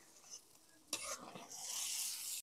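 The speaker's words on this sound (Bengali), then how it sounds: "এবার আমি গোশটা সুন্দর করে আউজি নেবো।" Chicken pieces being stirred and sautéed in spices for a chicken and chickpea curry: a soft sizzle with a scrape of the stirring utensil, building into a brief, steady frying hiss that stays quiet.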